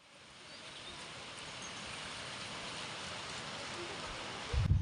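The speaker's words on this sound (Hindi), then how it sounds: "शायद बारिश है अब।" Light rain falls outdoors as a faint, even hiss that builds slightly and holds steady throughout, ending in a brief louder knock.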